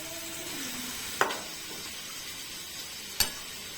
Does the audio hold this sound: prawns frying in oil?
yes